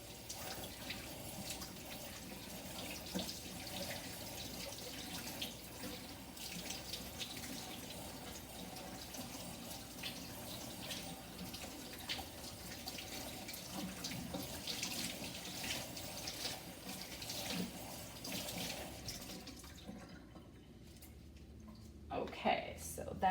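A tap runs steadily as dyed fabric is rinsed under it, a continuous hiss of flowing water close by that drops away briefly near the end before resuming.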